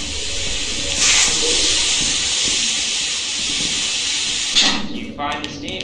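Steam in a video game hisses loudly and continuously from a close source, swelling around the first second and again near the end before cutting off, with players' voices faintly audible underneath.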